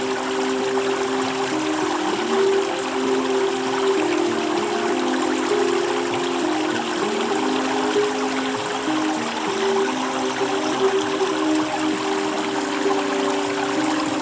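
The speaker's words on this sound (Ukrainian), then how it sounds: "І знову хвиля океану" Gentle ocean water sounds flow steadily through a meditation, a constant soft wash layered over a sustained tonal drone, with no speech.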